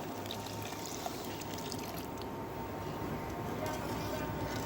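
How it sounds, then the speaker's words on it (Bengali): Water pours steadily into a pot of okra cooking with red lentils, a continuous even rush that holds at moderate loudness for the whole stretch with no voices. "এই পর্যায়ে আমরা দিয়ে দিচ্ছি পরিমাণ মতো পানি"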